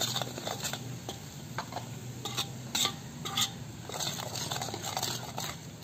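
Turmeric and coriander powder cook in a pan for kachori masala while a spoon stirs through them. A steady low sizzle runs beneath scattered scraping and clinking, with no talking.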